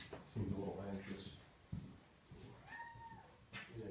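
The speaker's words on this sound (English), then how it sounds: "I'm going to let the cat out." A pet cat meows in a workshop during an Oldsmobile camshaft replacement job, several short anxious cries standing out nearby among tool clatter and a man's speech.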